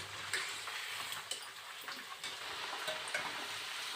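Diced potatoes for a potato avakaya pickle fry steadily in a pan over medium heat, a continuous close crackle with scattered small pops and occasional stirring scrapes, no voices over it.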